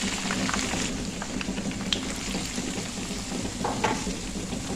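Chopped onions fry with ginger-garlic paste and a splash of water in a pan, giving a steady soft sizzle and bubbling with occasional stirring scrapes, close and continuous without talk.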